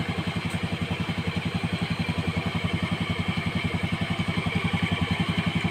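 Automatic scooter engine idling after fresh oil, a steady close-up putter with fast, even pulses and a light mechanical clatter running throughout, no voices.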